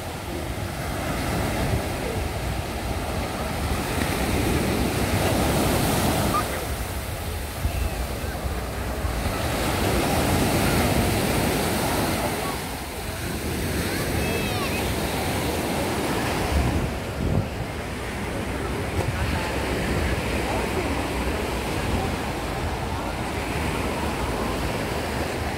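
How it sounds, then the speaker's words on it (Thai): Ocean surf rolling in at Waikiki beach, Honolulu, a continuous loud wash of breaking waves that swells and eases in slow cycles, with heavy wind buffeting the microphone throughout. "You can hear the waves."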